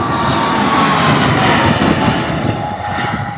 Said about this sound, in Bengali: এই যে বাম দিক থেকে আকাশে আরেকটা বিমান ল্যান্ড করবে।